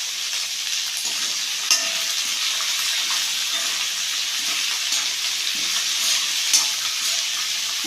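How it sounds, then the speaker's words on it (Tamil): Onions sautéing in a pan for onion tomato chutney, a steady close sizzle with soft stirring scrapes and a couple of sharp clicks, continuous without talk. "வெங்காயம் நல்லா வதங்கிடுச்சு."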